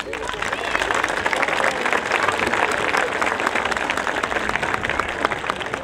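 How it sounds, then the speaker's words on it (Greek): Audience applause at a traditional dance evening, a dense and steady crowd clapping that carries loudly and evenly through the whole stretch. "Θα έλεγα να τους χειροκροτήσουμε προκαταβολικά."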